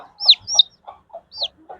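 Native country chickens and their chicks call close by: high squeaky peeps alternate with soft low clucks in a quick irregular rhythm.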